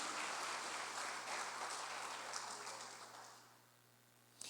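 Congregation applause at a Portuguese-language church sermon, a dense wash of clapping that holds steady for about three seconds and then fades, with a low steady hum underneath.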